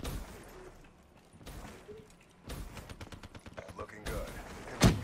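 Gunfire bursts from the video game Black Ops 3, a rapid rattle of shots with a sharp louder crack near the end, heard under a player's excited talk.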